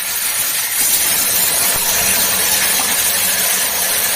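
Water poured into a hot pan of onion, garlic and ginger paste with black and white mustard sizzles loudly, a dense steady hiss lasting several seconds.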